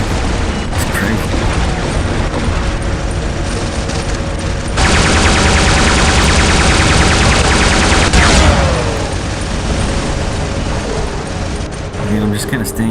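Sustained turret gunfire in the War Robots battle game, a dense continuous barrage of rapid shots and mechanical whirring that swells in the middle, with a voice faintly talking underneath.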